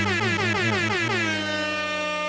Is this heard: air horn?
yes